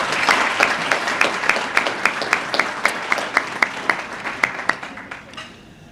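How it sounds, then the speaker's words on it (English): Banquet crowd at a small business awards event applauding the chefs and servers, a dense wash of clapping with a few sharp distinct claps standing out in a regular rhythm before it fades away. "So let's have a round of applause for them."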